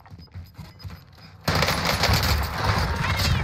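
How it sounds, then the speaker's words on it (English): Enemy gunfire in the Call of Duty Warzone video game: after a quieter opening, a loud burst of rapid automatic fire erupts and continues as a dense, sustained rattle through to the end. "Enemy is firing at me."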